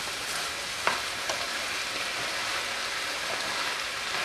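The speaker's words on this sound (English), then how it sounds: "See, our onions are starting to cook up now." Onions frying in a pan, giving a steady, fairly quiet broadband sizzle with a couple of faint clicks, no voices.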